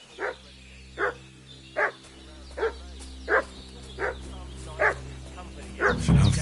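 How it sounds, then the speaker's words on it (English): A dog barks repeatedly in the video game Kingdom Come Deliverance 2, eight evenly spaced single barks at mid distance over a low ambient hum, ending with a louder rustling burst. "What's that dog making such a fuss about?"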